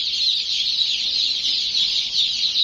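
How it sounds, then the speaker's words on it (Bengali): A flock of young chickens peeps and chirps in a steady, dense, high-pitched chorus, close and continuous throughout, with no voices. "এটা আমাদের মুরগি।"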